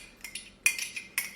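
A spoon clinks lightly against a bowl while yeast is mixed into milk for angel biscuit dough, giving a few scattered, quiet metallic taps with no talking.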